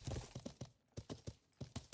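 Horse hooves clip-clop at a steady walking rhythm in the medieval video game Life is Feudal, close and fairly quiet, with no talking over them.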